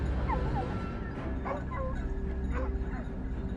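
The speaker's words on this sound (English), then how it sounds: "the barking of the hounds echoed from within the bushes" Hunting hounds bark and yip excitedly from within bushes during a wild boar hunt, several dogs giving overlapping high yelps and whimpers at moderate distance, continuous over a low rumbling background.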